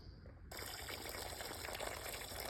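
Water gushes steadily into a dug well around a small newly planted tree, starting abruptly and continuing as a constant close splashing fill.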